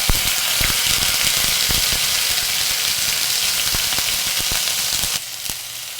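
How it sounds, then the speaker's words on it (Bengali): Onion paste fries in hot oil with a continuous close sizzle and crackle, a few sharper spits and scrapes breaking through before the sound eases near the end. "প্রথমে দিয়ে নিচ্ছি তেল, তারপরে দিয়ে দিচ্ছি পেঁয়াজ বাটা"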